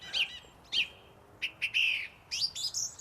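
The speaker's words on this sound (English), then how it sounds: "Turdus philomelos, member of the thrush family," A song thrush (Turdus philomelos) sings clear, sharp repeated phrases, a few loud bright notes each followed by short pauses, heard nearby with no talk.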